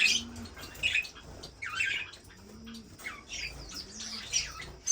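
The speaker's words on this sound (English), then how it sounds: "Alright, cheek waxbill, cute little birds." Cheek waxbill finches chirp and twitter in high, rapid calls, with a few low coos and soft flutters mixed in at moderate volume.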